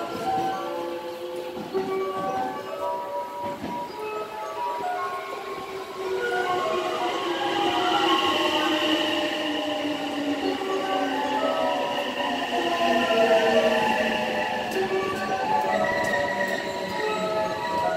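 A train pulls into Mikunigaoka station on the Nankai Koya Line, its wheels squealing and its rumble growing louder over steady platform ambience, with a short horn blast as it arrives.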